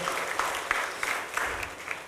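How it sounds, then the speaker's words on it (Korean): A Methodist church congregation applauds during a Sunday morning worship service, a steady, dense wash of hand clapping filling the room for a couple of seconds with no voices over it. "우리 다시 한번 박수로 축하하겠습니다."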